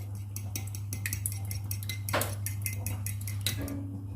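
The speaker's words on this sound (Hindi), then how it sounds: "फोक की मदद से दही को अच्छे से फेंट लेंगे" A fork whisking yogurt in a bowl for mint raita, quick light metallic ticks and taps in an irregular rapid rhythm over a low steady hum, fairly quiet and close.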